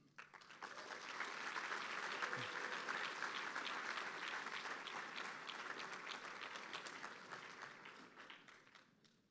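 A gala audience applauding college awardees, sustained clapping from a sizable crowd that swells quickly, holds steady for several seconds, then slowly tapers off, heard from a moderate distance.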